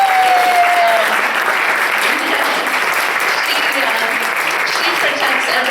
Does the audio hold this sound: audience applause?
yes